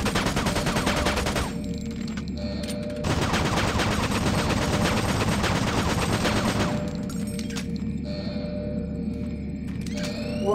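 Automated turret guns in Doom 3 BFG fire in dense, continuous bursts, a loud, relentless rattle of rapid shots with brief shifts in intensity and no voices.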